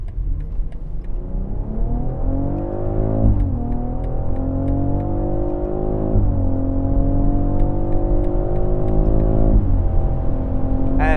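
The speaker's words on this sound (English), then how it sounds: "let's push it and see how it accelerates and how it maintains high speed" A 2025 BMW X3 M accelerates hard to high speed around a test track, its engine revving up in rising sweeps with gear changes, loud and steady inside the cabin.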